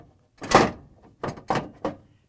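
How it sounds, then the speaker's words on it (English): An ice container slid into the auger assembly of a Frigidaire/Electrolux refrigerator gives four separate plastic thunks and knocks, one strong then three shorter ones, close by with no talking. "we can install ice container in auger assembly by just sliding it in"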